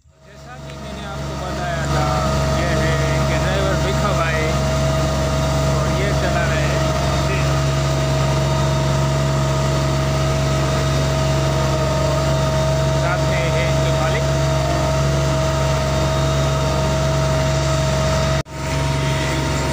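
A small-wheeled pesticide spraying machine drives through a groundnut field, its engine droning loud, close and unbroken for the whole stretch, with a voice talking over it.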